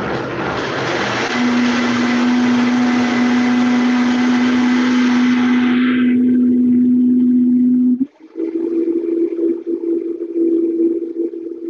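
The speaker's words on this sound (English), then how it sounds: "And then just turn your blender on." A blender roars loudly and steadily while blending almonds with water, a constant high whir with a strong motor hum that drops suddenly around eight seconds, then continues at a lower, rougher pitch.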